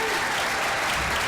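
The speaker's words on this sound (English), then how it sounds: "let's give a hand of applause" Audience applause at an educator of the year ceremony, a loud, dense, sustained burst of clapping from a crowd filling the room.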